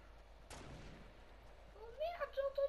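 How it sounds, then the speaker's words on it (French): A single sharp gunshot cracks out in a Fortnite match, followed by a short decay, then voices talking over the game. "Oh merde, j'ai entendu les coups de feu!"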